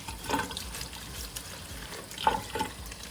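Cold tap water running over raw chicken as it is rinsed, a steady broadband trickle with a few brief splashes. It sounds close and moderately quiet, and no voices are heard.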